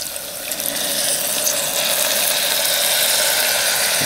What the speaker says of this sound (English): I'm just going to pour a little bit of the gravy in there.